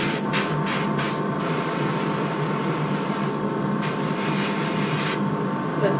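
Airbrush spraying paint onto a model horse, a steady, close, continuous hiss running throughout with a few brief dips, with no voices.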